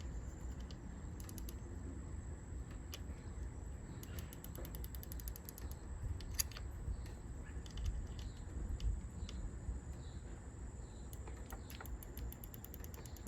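Small ratcheting clicks from the windage and elevation turrets of a SIG Sauer Romeo 5X 1x20mm red dot sight, sparse quiet clicks scattered over a low background hum, close up.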